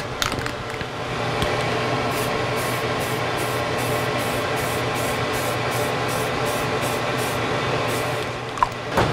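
A spray gun applies an easy coat of paint beside a running particle extractor machine. The hiss is steady and continuous, close and fairly loud, and holds for about nine seconds.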